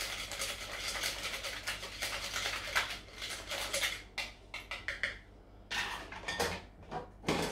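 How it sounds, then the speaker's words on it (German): A wire whisk scrapes and clinks steadily against a bowl as an egg mixture with parsley is stirred by hand, busy and close for several seconds, with brief pauses between bursts. "Einfach mit unserem Rührbesen verrühren."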